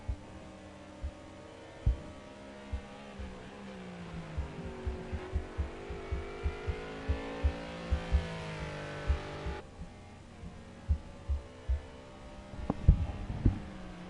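Race cars lap Donington Park in the racing game Project Cars 2, an onboard engine whine rising and falling in pitch through gear changes, with a steady run of rhythmic ticks beneath it.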